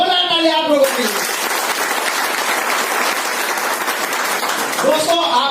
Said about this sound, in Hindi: एक जोरदार ताली आप लोगों के लिए